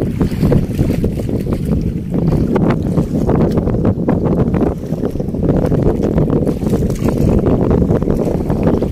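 Strong wind buffets the microphone in a steady low roar, with gusty rumbling throughout and no voices.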